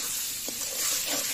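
Fried soybeans tumble into a pan of cooked-down spices and set off a soft, steady sizzle, with a faint stir or clink in the middle. It is short and fairly quiet, and nobody speaks.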